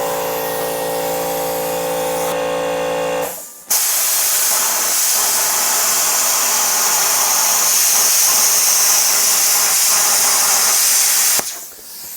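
A compressed-air tool driven by an air compressor, used while building an ice shack oven, gives a loud, steady, close hiss that runs for about eight seconds and then cuts off, after a lower humming mechanical tone.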